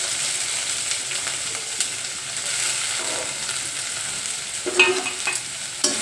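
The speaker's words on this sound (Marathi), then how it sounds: "चांगला ब्राऊन कलर होईपर्यंत परतून घ्यायचे." Chopped onions and garlic sauté in a pan for a fenugreek-leaf vegetable dish, giving a steady broad sizzle with occasional scraping stirs, no voices over it.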